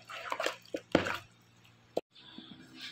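Beef being mixed by hand with marinade, a few soft wet squishes and slaps close by with short pauses between them, quiet overall.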